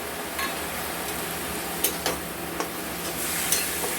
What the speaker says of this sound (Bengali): দিয়ে এটাকে ভালো মতো করে নাড়াচাড়া করব